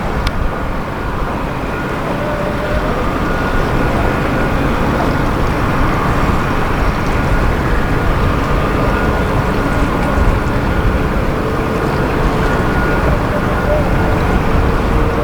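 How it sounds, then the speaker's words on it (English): Strong wind of over 20 knots roars steadily around a sailboat in heavy weather off the Cape Verde islands, a dense continuous rushing noise with no clear breaks. "Wind's blowing over 20 knots, so very difficult to fish around here."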